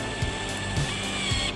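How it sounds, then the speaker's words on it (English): A power drill run slowly in forward while its chuck closes onto a bit: a steady, close motor whine and hum with a few soft low thumps recurring at regular intervals. "I'll put the drill into forward and very slowly I'll bring it up."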